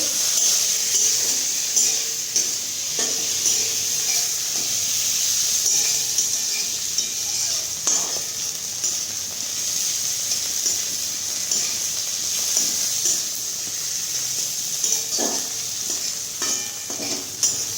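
Egg curry with tomatoes is stirred in a frying pan, giving a steady sizzling hiss overlaid with intermittent scrapes and soft knocks from the stirring.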